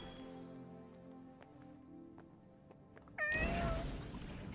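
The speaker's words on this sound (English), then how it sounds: "Hey, that cat. Did it tail us here?" A cat meowing in the video game Forspoken, a single drawn-out meow arriving suddenly after a quiet stretch of soft ambient music and light clinks, fairly close and clear.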